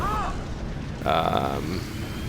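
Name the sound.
tank cannon firing in World of Tanks video game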